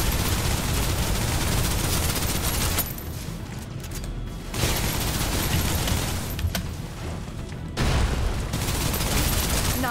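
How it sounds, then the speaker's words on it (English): Dense, continuous suppressive gunfire in the shooter game Snowbreak, loud and rattling with brief lulls before resuming, layered with booming impacts. "Suppressive fire."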